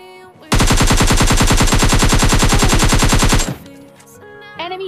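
Automatic gunfire in the video game PUBG Lite rattles off as a loud, rapid, unbroken burst of about three seconds, followed by quieter game sounds.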